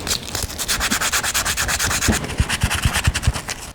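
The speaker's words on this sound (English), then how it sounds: "So why don't I clean that a little bit with some sandpaper." Sandpaper scrubbing corrosion off a part on a Massey Ferguson MF35 tractor, a close, steady series of short rasping rubs that turn into quicker, distinct strokes toward the end.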